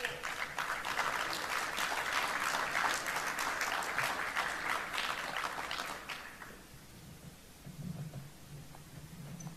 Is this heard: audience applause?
yes